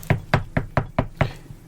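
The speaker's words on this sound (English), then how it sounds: "And I knock hard on the door." Hard knocking on a door: six firm, evenly spaced raps in a steady rhythm, close and loud, with no voices.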